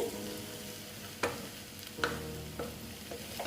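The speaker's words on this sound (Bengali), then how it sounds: "এখন এই বেসনটা দিয়ে এটাকে মিক্সড করে দিচ্ছি" Gram flour being stirred into okra frying in a pan, with a soft continuous sizzle and a few sharp scraping stirs, close but fairly quiet, with no talking.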